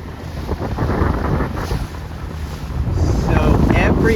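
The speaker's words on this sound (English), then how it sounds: "we got the windiest puff of the day, 11 knots here" Strong, continuous wind roars across the microphone aboard a C420 sailing dinghy during a regatta race, with water rushing along the hull and the gust building louder toward the end.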